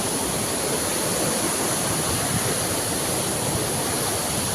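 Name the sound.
Borhill waterfall near Dawki, Meghalaya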